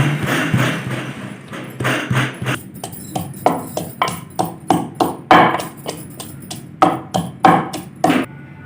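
Garlic, ginger and two green chillies being pounded into a paste, a steady run of loud, close thuds in a regular rhythm, with no talk over it.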